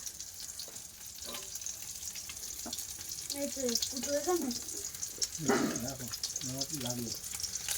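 Fish frying in oil with a steady background sizzle, while people talk intermittently nearby over it.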